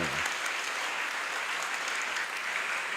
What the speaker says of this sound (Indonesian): Kita beri tepuk tangan untuk semua